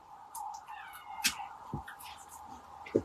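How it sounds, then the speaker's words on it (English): A cat makes a few short, odd vocal noises, rising and wavering, spaced across a few seconds over a steady low background hum. "my cats are making a funny noise"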